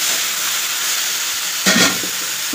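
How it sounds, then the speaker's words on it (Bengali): Vegetables for vegetable rice frying in a pan, a steady close sizzle with a brief louder burst of hiss partway through, no talking. "এগুলো আগে ভেজে নিই"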